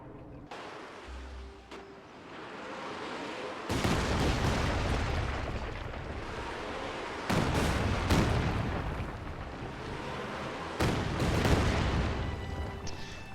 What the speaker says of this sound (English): Blind firing the Katyusha doesn't hit anything.